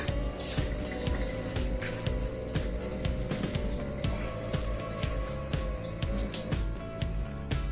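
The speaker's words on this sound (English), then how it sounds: "and then lightly wash it, otherwise your mutton will simply taste acidic." Tap water runs steadily while raw mutton is rinsed in a sink for a mutton xacuti, with clinks and splashes scattered through a continuous close rush and no speech.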